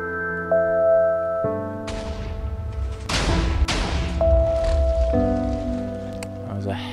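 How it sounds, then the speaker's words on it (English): Rapid cannon volleys in a sand-launching cannon contraption, heard as a cluster of heavy thuds and bursts over a sustained synth-like drone, with a couple of sharp booms standing out in the middle. "That was a hell of a lot of cannon to fire 1 piece of sand"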